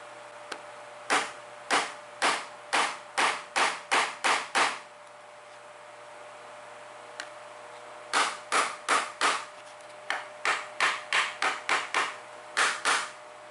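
Hammer blows drive pins through the handle of a reworked kitchen knife, a quick run of about ten sharp metallic taps, then a pause and two more bursts of rapid strikes, close and loud, with no talk.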